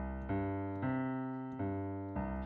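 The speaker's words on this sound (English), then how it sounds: "You'll also often see it combined with what's called a tumbao bass line." A tumbao bass line played on piano, with sustained low chords changing in a syncopated rhythm, four distinct attacks across the phrase, clean and alone without voices.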